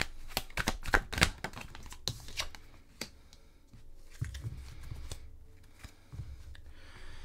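Tarot cards being shuffled and drawn, with a rapid burst of riffling snaps at the start, then scattered slides, taps and flicks as cards are pulled, close up and with no talking.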